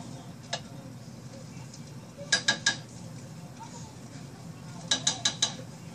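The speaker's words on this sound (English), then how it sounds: "stir it again" A spoon stirs a cream soap mixture in a pot, making a single light clink followed by two quick runs of three to four metallic taps against the pot, faint and close.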